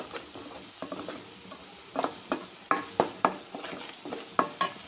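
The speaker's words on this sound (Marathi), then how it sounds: "हे बघा अशा प्रकारे 2 मिनिट आपण छान फिरवून घेऊया।" Spicy masala for egg curry is stirred and fried in a pan, with a steady soft sizzle broken by repeated scraping strokes of the spoon. The strokes come more often toward the end, and no one speaks.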